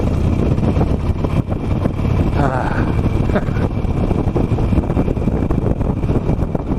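A 17-year-old Harley Davidson Nightster motorcycle accelerates downhill through second and third gear, its engine rumble loud and constant beneath heavy wind buffeting, with no clear break between gears.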